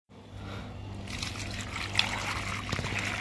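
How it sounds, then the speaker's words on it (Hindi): Water poured from a tub onto a hot outdoor spot, a steady trickling and splashing stream that runs for a few seconds at moderate level, with no talk over it. "हमने यहाँ पे पानी डाल दिया है"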